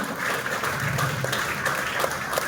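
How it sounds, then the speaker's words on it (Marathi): A seminar audience in Latur applauds steadily for a couple of seconds, the clapping dense and continuous without pause. "एकदा मनापासून जोरदार टाळी वाजवून साथ दिली पाहिजे"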